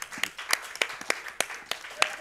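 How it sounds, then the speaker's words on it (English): Scattered clapping from a small audience at a Super Smash Bros. Ultimate tournament, a handful of irregular claps over a couple of seconds, fairly faint. "Gotta give them applause."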